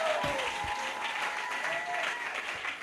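Church congregation applauding and cheering during a French-language sermon, a steady, dense wash of clapping and crowd noise throughout, with a few brief voiced shouts rising above it.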